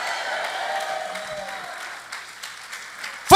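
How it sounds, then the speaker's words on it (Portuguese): A church congregation claps together during a sermon, a moderate, steady patter of applause heard from within the room, ending in a sudden loud burst right at the close. "Forte esse aplauso, porque esse aplauso tem que ter coragem."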